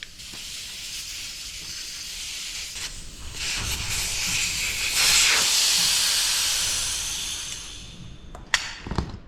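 Air hisses out of a Yamaha Zuma scooter tire in a steady close rush that swells in the middle and fades, ending with a sharp click.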